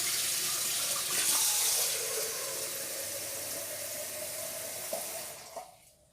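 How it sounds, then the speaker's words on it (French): Very hot water runs from a tap in a kitchen: a steady, fairly quiet rushing hiss of flowing water that cuts off near the end. "je vais prendre de l'eau très très chaude"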